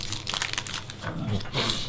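Plastic Pokémon booster pack wrappers crinkle and tear in short bursts close by, with a voice briefly heard in the background.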